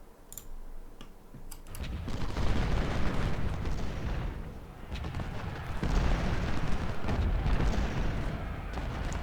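Artillery canister fire at point blank in the Ultimate General: Civil War game, a dense continuous crackle of overlapping cannon and musket reports that swells and dips over several seconds, with no talking.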